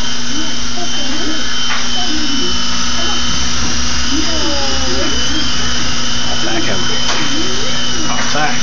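A children's toy helicopter whines with a loud, steady high-pitched motor and rotor buzz close to the microphone, while voices talk over it throughout.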